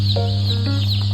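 A brown Rhode Island Red hen, a heavy-laying breed, gives a few short, close clucks over a steady low background hum.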